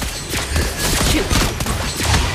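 Rapid gunfire from the hero Lesley in the Mobile Legends video game, a loud dense volley of shots with game effects layered over it.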